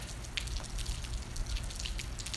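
Rain drips and patters outdoors on a rainy day, scattered soft drops tapping irregularly over a faint, steady wash of rainfall with no voices.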